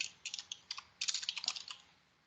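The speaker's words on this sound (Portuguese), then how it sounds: "Você digita, dá um Enter, ele aparece uma nova." Typing on a computer keyboard while entering answers in a Microsoft Forms questionnaire, with close, crisp keystrokes in short irregular bursts and then a fast run of clicks, alone without talk.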